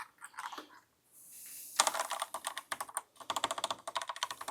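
Rapid clicky keystrokes on a Proove Gaming Sideswap mechanical keyboard, close up, in uneven bursts after a short quiet start, with no talking.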